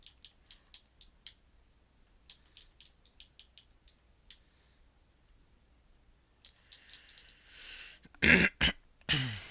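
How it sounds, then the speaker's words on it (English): A string of quick clicking taps is followed by several loud, harsh bursts of throat clearing close to the microphone near the end. "Clear my throat."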